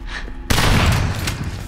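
A sudden loud burst of gunfire in the survival horror shooter Daymare 1998, cutting in after a quiet moment and trailing off into a rumbling decay.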